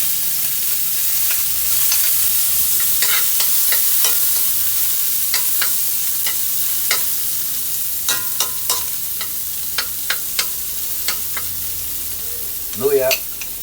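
Garlic and onion sauté in a hot pan with a steady, close sizzle, and a utensil stirs and scrapes at irregular intervals. No one speaks.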